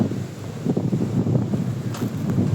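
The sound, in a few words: wind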